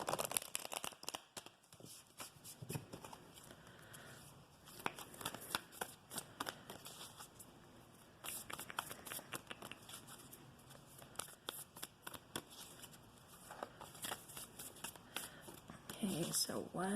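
Moonology oracle cards being shuffled by hand, a close, steady run of papery riffles and soft slaps that continues for the whole stretch with brief pauses and no clear talk.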